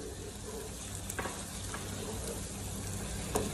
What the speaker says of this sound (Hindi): चिकन को भी हम 5 से 7 मिनट फ्राई करेंगे।